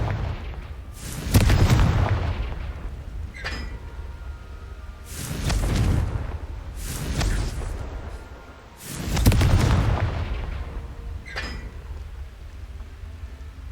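Three big explosive blasts from the Confringo fire spell in Hogwarts Legacy, each a heavy booming burst with a rumbling tail, spaced a few seconds apart, loud and close with no talk over them.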